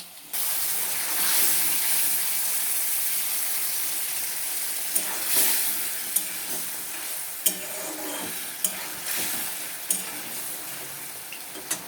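A tomato, green chili and ginger spice paste frying and being stirred in a pan for a live fish curry, giving a steady hiss and sizzle broken by sharp scrapes and clacks of the spoon, with no talking.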